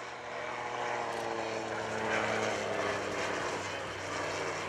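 An autogyro maneuvering in 15-knot crosswinds at an airshow drones overhead, its propeller engine a steady, moderately loud hum with little variation across the clip.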